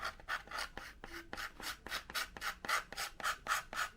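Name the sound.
scraping red parachute ink off a model rocket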